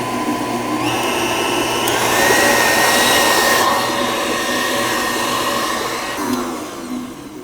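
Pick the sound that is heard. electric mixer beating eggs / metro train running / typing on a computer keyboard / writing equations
electric mixer beating eggs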